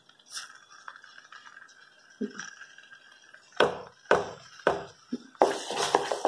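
A spoon scrapes and clanks against a steel pot while amla jam is stirred, sharp metallic knocks coming in a few separate bursts near the end after a quieter stretch of faint scraping.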